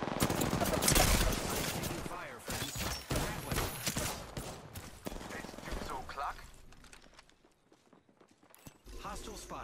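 Rapid gunfire crackles in a busy Apex Legends firefight, dense bursts up front that thin out later, with game voices speaking over the action.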